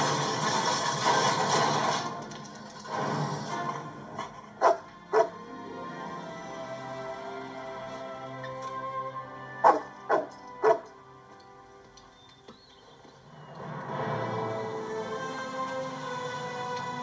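A dog gives a few short, sharp barks and yips in small clusters, separated by quieter stretches with background noise in an indoor setting.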